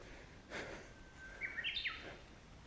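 Faint bird chirps in Yatoyama Park in Zama, Japan, a soft call followed by a quick run of thin high tweets over quiet outdoor background.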